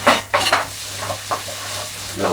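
Onion and smashed chilies for Gobi Manchurian hitting a hot pan, a short burst of sizzling with quick stirring scrapes and soft clatter up close.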